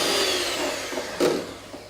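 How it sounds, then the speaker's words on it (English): An electric whisk beating chocolate cake batter toward soft peaks gives a steady close whirring drone with a brief louder surge near the end, and no voices. "so we're just going to do a bit more whisking"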